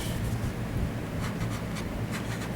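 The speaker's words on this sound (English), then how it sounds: "I won't disappoint you with what I'm drawing. It's just a quick" Pencil scratching quickly across paper while a rough sketch is drawn, a steady close scribbling texture with brief strokes, no talking.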